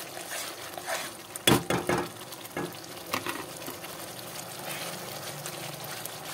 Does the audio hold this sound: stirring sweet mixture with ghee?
yes